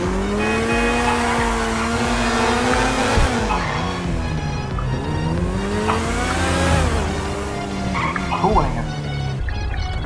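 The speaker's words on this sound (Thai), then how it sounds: "เสียงนะเสียงของรถเนี่ยค่อนข้างที่จะเป็นยังไงนะเสียงค่อนข้างจะดังนะครับ" A Vapid FMJ supercar engine in GTA V Online revs loudly in rising and falling sweeps with tire squeal, while someone talks over it throughout.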